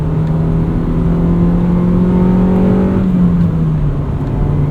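The B16A2 inline-four engine of a 1999 Honda Civic Si hums loudly and steadily from inside the car, its pitch holding high and then easing down slightly toward the end.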